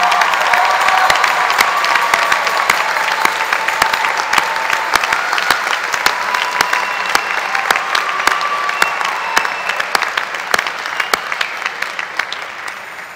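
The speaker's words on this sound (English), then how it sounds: "everyone else, let's give them a wonderful round of applause." A large commencement audience at a university fine arts ceremony applauds mothers in their seats, loud dense clapping with some cheering that carries steadily throughout and tapers slightly near the end.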